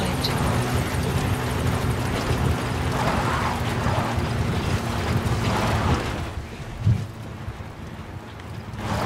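A support helicopter arrives in a video game, its rotor and engine rumble holding steady, then thinning out and dropping away near the end.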